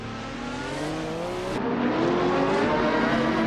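Race cars launch off the line at the start of a video game race led by a 1998 Porsche 911 GT on pole, engines revving loudly and rising in pitch together, close and alone.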